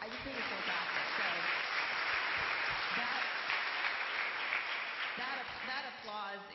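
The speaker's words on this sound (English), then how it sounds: "That applause is for you." A church congregation at a United Methodist service applauds in a sustained, dense wash of clapping that fills the whole stretch, easing slightly near the end as a voice begins.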